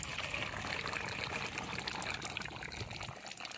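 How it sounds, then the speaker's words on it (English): Water pours steadily into the top container of a water computer, a continuous splashing trickle throughout, close and fairly quiet. "I'm gonna add water into the top container."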